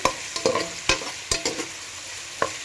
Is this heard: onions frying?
yes